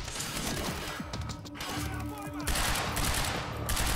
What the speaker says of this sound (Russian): Я на ощупь стреляю, но вроде попадаю.